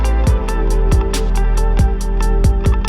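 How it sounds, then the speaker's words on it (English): Closing riff of an electronic track layering Wurlitzer electric piano, organ and guitar plugins, with sustained keys over a regular thumping kick and crisp hi-hats, loud and full throughout, purely instrumental. "riff of the Wurlitzer, the organ and the guitar plugs which I showed you in the first place over here"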